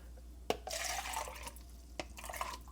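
Water poured into a rice cooker insert over white basmati rice, a steady splashing pour with a few clinks of the pot, fairly close and unaccompanied by talk.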